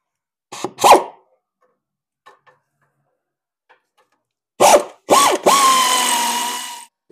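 A power tool drives out a 10 mm bolt on a Chevy Trailblazer during EGR work, with two short close bursts, a long quiet gap, then two more bursts and a sustained whirring run.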